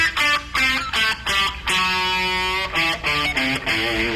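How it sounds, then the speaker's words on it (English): Electric guitar plays a full pentatonic scale with the Dorian note added in a rock style, a run of sustained, slightly overdriven notes in short separated phrases, close and alone with no talking. "if you do the full pentatonic scale with the Dorian note added"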